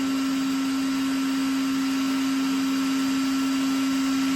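A hot heat gun blowing on urethane at a Duplo composite shoe welding table, a steady loud whirring blower drone with a constant hum, unchanging and alone.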